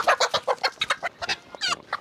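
A hen at a luxury estate clucks close by in a quick, busy series of short, throaty notes and ends with a brief rising squawk, with nothing else sounding behind it.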